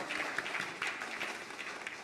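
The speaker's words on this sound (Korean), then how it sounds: "우리 하나님께 영광의 박수 올려드리겠습니다." A church congregation at a Sunday service claps together in a dense, even burst of applause that carries on throughout, moderately loud and without talk.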